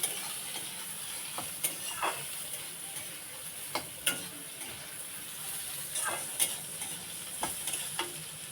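Banana flower or yam curry fries in a pan with a little salt, giving a steady close sizzle. A spoon scrapes and clatters against the pan at intervals while the mixture is stirred.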